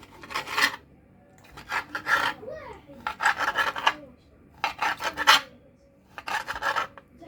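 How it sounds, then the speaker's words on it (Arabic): A knife saws through shawarma meat on a board in repeated rasping strokes, five or six bursts separated by short pauses, close and clear with no talk. "وهنا عندي لحم الشاورما. فوالا راني نقطع فيه دي ترونش"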